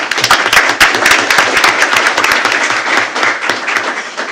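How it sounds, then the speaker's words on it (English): Applause at a school board of trustees meeting: a room of people clapping steadily and fairly loudly for several seconds, dense overlapping claps with no one speaking. "Can we have a big round of applause for Ms."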